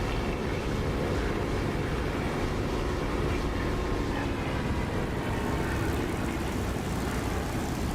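Steady engine drone of an aircraft flying with its flaps lowered in the DCS flight simulator, a loud broadband roar that holds level throughout with no gaps.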